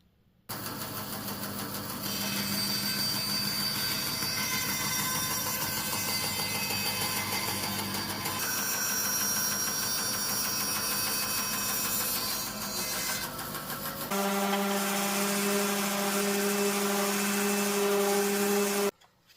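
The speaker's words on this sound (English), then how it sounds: "Then I'm just going to go to the bandsaw" Bandsaw cutting out a wooden template: a steady, loud mechanical whine and blade hum that runs continuously, shifting pitch partway through as the cut progresses.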